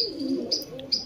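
A Garra pigeon of the Allahabadi type coos softly nearby, low murmuring calls with a few faint chirps over a quiet background.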